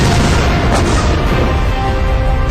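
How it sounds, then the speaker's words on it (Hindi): A missile strike explodes beside a parked car near a tank, a loud, dense roar of blast noise that fills the whole clip without pause and with no voices. "अचानक आसमान से बिजली की रफ्तार से एक मिसाइल आती है और इस कार के बगल में हिट करती है"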